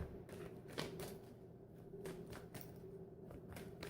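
Tarot cards are shuffled in quick riffling bursts, several separate shuffles with brief pauses between, close by over a faint steady hum.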